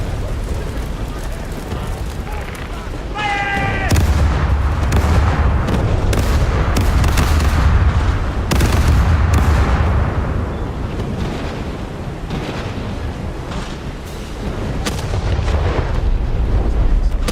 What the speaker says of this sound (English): There's the heavy galleon that's bombing.